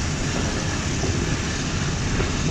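Mehr Express train pulling out of Taranol railway station, heard as a steady broad rumble and rushing roar of the moving train, loud and continuous with no voices.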